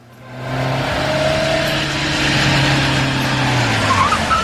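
A car pulls up and stops, its engine drone and tyre noise rising quickly and holding steady at close range, loud and alone with no speech.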